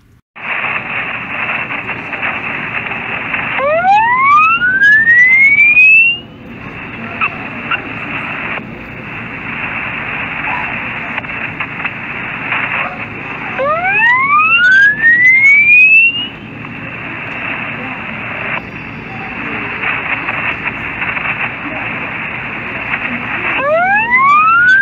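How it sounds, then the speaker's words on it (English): Radio signal pulses from an Arecibo experiment, heard as a steady electronic tone over noise, broken by three rising, whistling chirps spaced about ten seconds apart, loud and continuous with no voices. "the experiments used a series of pulses"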